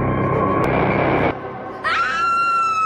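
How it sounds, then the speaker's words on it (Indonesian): A woman in a film lets out a loud, high, wavering scream that rises sharply and then holds, following a burst of dense, noisy sound that cuts off abruptly. "mendengar teriakan"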